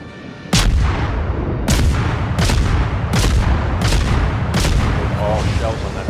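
Naval shell gunfire in a World War battleship game, a rapid series of about six loud booming cannon shots at irregular intervals over a dense rumbling battle background, with faint talk mixed in.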